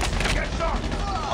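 Gunfire in the Call of Duty Mobile video game: dense, loud rapid shots and bursts filling the moment, with faint in-game voice chatter mixed underneath.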